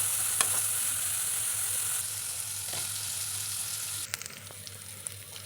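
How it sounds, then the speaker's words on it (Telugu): Fresh coconut pieces and green chilies frying in a pan for coconut chutney, an even sizzle with a few stirring clicks and scrapes toward the end. "ఒకసారి వేయించుకొని పచ్చిమిరపకాయలు వేసుకోవాలి."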